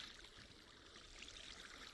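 Flowing water in Minecraft 1.19, a faint, steady trickling wash that runs unbroken and alone.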